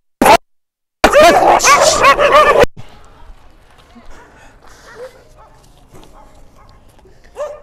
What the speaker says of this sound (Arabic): الكلب اللي جه من وسط الكلاب